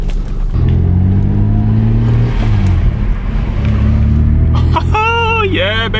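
A Toyota MR2 engine runs loud and close, its low drone rising and falling through revs, with voices talking over it near the end.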